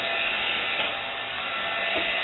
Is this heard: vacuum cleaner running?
yes